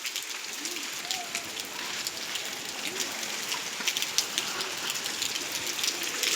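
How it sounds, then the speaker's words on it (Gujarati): Steady light rain falling outdoors, a dense, even patter of drops on surfaces with a constant hiss, moderate and continuous throughout. "ગઈકાલ રાતથી ધીમી ધારે વરસાદ વરસી રહ્યો છે."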